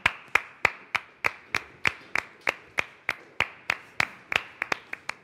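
Two people clap their hands in a slow, even rhythm, about twenty sharp, close claps that turn a little quicker and uneven near the end, with no talking.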